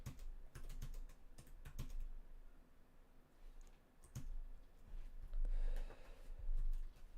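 Quiet, scattered clicks of fingers typing on a computer keyboard at a Samsung DeX desktop setup, with irregular bursts of keystrokes and a few louder taps, and no one speaking.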